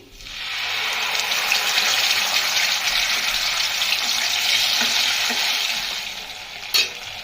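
Poppy seed, melon seed, green chili and onion paste hits hot oil in a pan for a prawn malai curry, giving a loud, steady close sizzle that fades near the end, followed by one brief clink.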